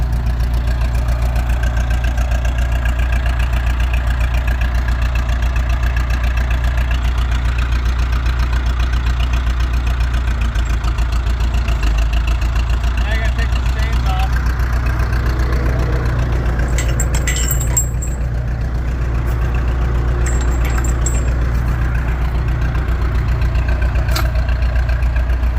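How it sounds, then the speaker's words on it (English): A bulldozer's diesel engine idles steadily nearby, a constant low, knocking rumble that holds level throughout, with a few faint higher clinks drifting in briefly. "So there it is, idling away behind me."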